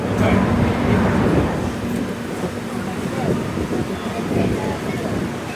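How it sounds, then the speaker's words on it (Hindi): Sairang Guwahati Express passenger train rolling along after pulling out of a station, a steady broadband rumble and rattle of the carriages heard from inside, with indistinct voices faintly mixed in. "बैडवी से हमारी ट्रेन खुल चुकी है, बस 2 मिनट के लिए यहाँ रुकी थी।"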